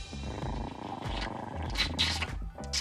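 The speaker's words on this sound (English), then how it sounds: "Heather stayed at home and made out with her cat" A pet cat purrs in a steady, close rumble, with a few brighter bursts of noise layered over it and no talking.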